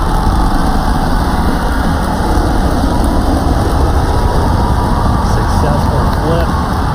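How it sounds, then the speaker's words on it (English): Two Raptor sea-level engines on a SpaceX Starship light for its landing burn, a loud, unbroken rumbling roar that holds steady throughout, with voices talking beneath it. "going for a landing burn, trying to light 2 of these Raptor sea level engines."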